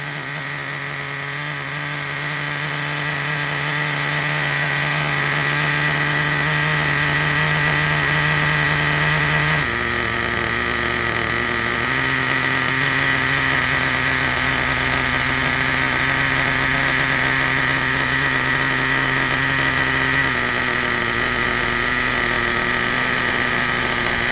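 A Traxxas Revo 3.3 nitro RC truck engine runs steadily and loudly at close range, its buzzy small-engine drone stepping up in pitch as light throttle is applied, with no talk.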